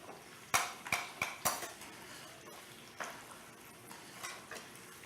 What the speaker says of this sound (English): She's patiently frying everything.